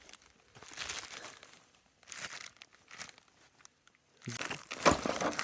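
A small plastic bag is handled and crinkled in several bursts of crackling rustle, separated by short pauses, with the loudest, sharpest crinkling at the end.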